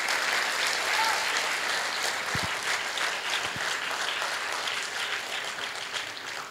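An audience claps continuously at a public talk in Rajahmundry, a broad crackling wash of many hands that holds steady and fades slightly toward the end, with a couple of low thumps midway.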